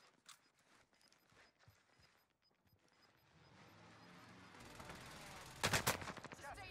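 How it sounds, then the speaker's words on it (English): Gunfire in a shooter video game, a few quiet shots early, then a cluster of louder sharp cracks near the end over rising background noise. "What the hell did I get shot from?"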